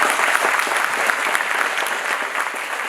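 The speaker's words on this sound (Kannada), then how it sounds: "ಎಲ್ಲಾ ಮುದ್ದು ಮಕ್ಕಳಿಗೆ ಇನ್ನೊಮ್ಮೆ ಜೋರಾದ ಚಪ್ಪಾಳೆ" An audience at a children's stage drama applauds with loud, sustained clapping from many hands. The clapping holds at a steady level to the end.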